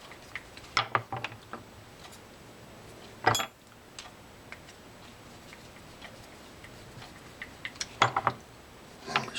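Anti-reverse ratchet on a 1980s Ocean Side 303 Japanese fishing reel being tested, scattered sharp clicks in short clusters with a louder rattle, close and otherwise quiet.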